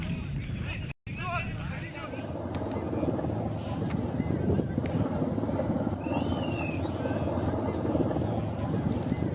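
Two US Black Hawk helicopters fly alongside a C-130 Hercules transport aircraft in Khuzestan, producing a dense continuous rotor and engine roar with wind buffeting that holds throughout after a brief dropout near the start.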